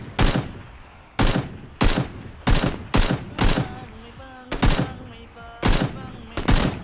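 Gunfire in the video game PUBG, eight or nine sharp, loud single shots fired at roughly regular intervals of under a second, each cracking then decaying, with faint background game noise between them.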